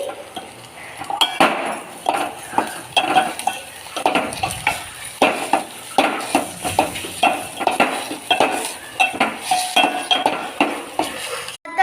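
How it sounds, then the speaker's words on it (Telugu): A ladle stirs egg frying in a pan for egg fried rice, giving rhythmic scraping and clinking strokes over a soft continuous sizzle, close and steady throughout. "ఈ ఎగ్ బాగా ఫ్రై అయ్యేంత వరకు మిక్స్ చేస్తూనే ఉండాలి."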